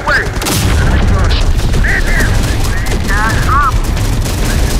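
Rapid, dense video game gunfire from Terminator: Dark Fate - Defiance, a loud sustained fusillade of bursts and booms with radio-style voices calling out over the shooting.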